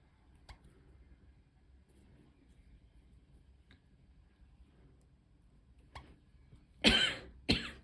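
Two sharp coughs from a person near the microphone while working on needle lace, coming after several seconds of quiet room tone.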